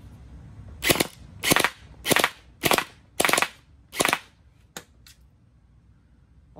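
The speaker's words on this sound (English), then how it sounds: "So yeah, let's just hit it a few times." A BD Splatgun gel blaster fires six sharp, evenly spaced shots at a target, followed by two lighter clicks, each report crisp and close with quiet gaps between.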